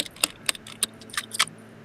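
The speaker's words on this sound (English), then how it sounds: "I'm hearing double clicking." Quick irregular clicks of a pen mixed with keyboard typing, several sharp close taps and double clicks spread over a couple of seconds, with no voices.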